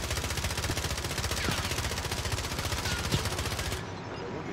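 Rapid automatic gunfire in the battle royale game Call of Duty: Warzone, a dense sustained burst of shots from a Kilo rifle that cuts off near the end, loud and close with no one talking over it.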